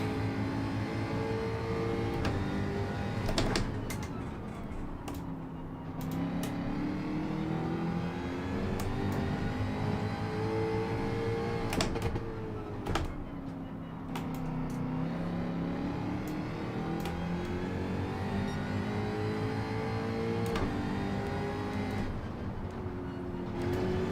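Group 3 BMW race cars roar around Watkins Glen in Gran Turismo 7, engines droning and rising in pitch through gear changes, with other cars passing nearby and no talking.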